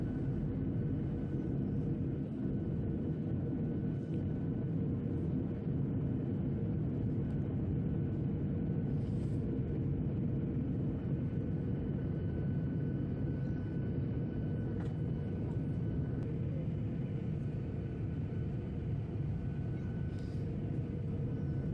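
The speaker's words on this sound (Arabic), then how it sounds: "لأن الطيارة دخلت أجواء مشهد، فبدت تنزل بالتدريج." Cabin noise inside an Iraqi Airways Boeing 737 descending toward Mashhad: a constant, loud, low engine and air roar that stays even throughout, with no talking.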